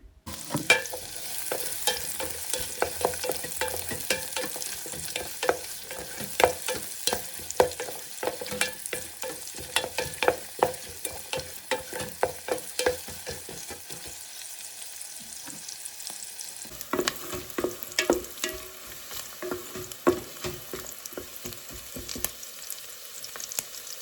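Onions and green chillies fry together in a pan for biryani, a continuous close sizzle broken by frequent scraping, clattering stirs of the spoon against the pan over a long stretch, with no talking.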